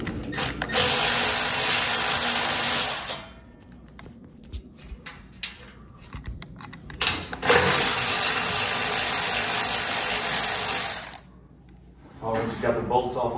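A ratchet wrench backs bolts off a garage door track in two long, loud bursts of rapid clicking, separated by quieter handling noise and rubbing, with a short burst at the end.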